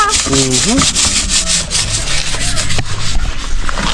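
A brush scrubs steadily while washing a motorcycle, a continuous rough rubbing sound in quick back-and-forth strokes, close and fairly loud throughout.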